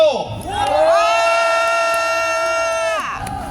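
At a Korean political rally, a large crowd lets out a long, loud, sustained roar of shouting and cheering, swelling quickly, holding for about two seconds, then falling away.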